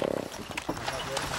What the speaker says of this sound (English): The sleigh ride is a one-horse open sleigh, just like the song says